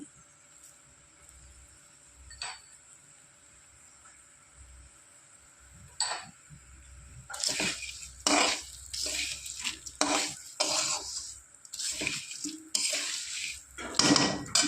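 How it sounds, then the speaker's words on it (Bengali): Water poured into a pot of Gobindobhog rice and mung dal khichuri, heard as loud, uneven splashing and pouring bursts with clinks of the pot, starting after a few faint knocks and continuing steadily to the end. "ভালো করে নেড়ে চেড়ে কষিয়ে নেওয়ার পর এবার দিয়ে দেবো পরিমাণ মতো জল।"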